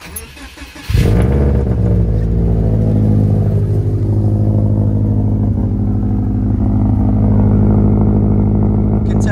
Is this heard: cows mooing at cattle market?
no